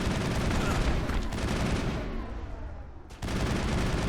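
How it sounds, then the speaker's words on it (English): Sustained automatic assault rifle fire in the sci-fi video game Mass Effect 1, dense rapid bursts with a brief lull before firing resumes, loud and continuous with no talking. "let's just use the assault rifle to snipe away at the trooper in the back"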